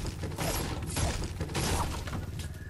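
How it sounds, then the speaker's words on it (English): A treasure chest opening in a battle-royale video game plays as a continuous mechanical ratcheting and clattering, gear-like and creaky, steady and moderately loud throughout with no talk. "I'm gonna open just that chest"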